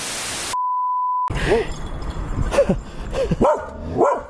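A short electronic beep, then several dogs bark and give chase in quick, irregular bursts at close range, with yips mixed in, at Pongyang Jungle Coaster and Zipline in Chiang Mai, Thailand.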